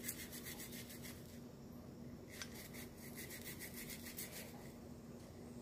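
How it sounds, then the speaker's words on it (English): A toothbrush buffs cleaner into a dirty leather saddle with steady, close, rhythmic scrubbing strokes that repeat evenly throughout, and no one speaks. "I'm just going to grab a toothbrush and I'm just going to like buff that in"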